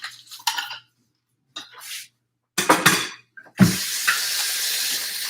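Tap water runs into a kitchen sink as dishes are washed, first in short splashy bursts broken by silence, then as a steady close stream that keeps going to the end.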